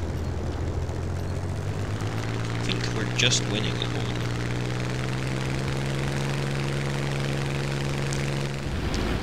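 Hawker Hurricane fighter engine in War Thunder droning steadily with a low propeller hum for the whole stretch, someone talking briefly over it, and the engine cutting out near the end.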